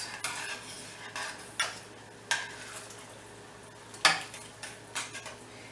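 Light scraping and clinking of a utensil against a pot on high heat, a few soft strokes spread out with pauses between them, quiet and close.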